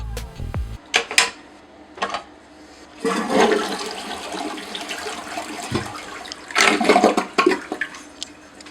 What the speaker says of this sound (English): I just throw it in the toilet, give it a few flushes, and it's all good.